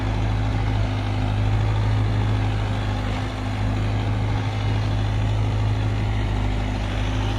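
Mahindra tractor with its front wheels lifted, engine running at a loud, steady low drone with a constant throbbing hum, close and unbroken throughout.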